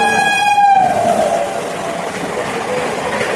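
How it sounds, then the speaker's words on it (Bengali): A loud train horn blares briefly, then the rushing rumble of a train passing close by continues steadily. "দেখো এদিক দিয়ে আবার ট্রেন আসছে"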